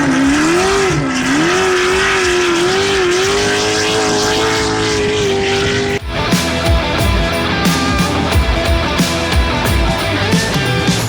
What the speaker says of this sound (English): we were fortunate enough to get some onboard footage of one of the Dakar trucks and also a bit of aerial of that beast in action